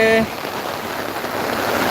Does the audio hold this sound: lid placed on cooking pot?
no